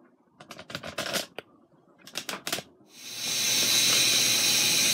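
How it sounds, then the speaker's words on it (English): An Instant Pot Duo pressure cooker, not yet fully at pressure, puffs short bursts of steam through a steam diverter, then settles into a loud continuous hiss; no talk. "it hasn't fully come up to pressure yet, and I put my little Bluebird steam diverter. Y'all see it? You see the steam coming out?"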